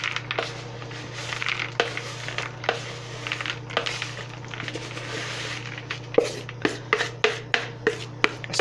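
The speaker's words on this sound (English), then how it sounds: "Get our batter, and then I'm gonna mix everything in there." Oatmeal chocolate chip cookie batter being mixed in a bowl, with soft scraping and rubbing strokes and occasional sharper taps of the utensil against the bowl, steady and close over a constant low hum.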